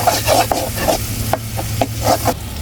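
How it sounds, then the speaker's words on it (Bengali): Garlic and ginger paste fries in a pan while a spoon stirs it in repeated scraping strokes over a steady close sizzle, with no voices. "এবার আদা বাটা দিব। একটু নেড়ে ছেড়ে নিব আর কি।"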